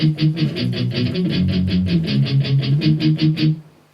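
Palm-muted electric guitar power chords play the verse of a song as tight, chugging eighth-note strums in a steady driving rhythm, close and alone, ending with a brief ringing decay.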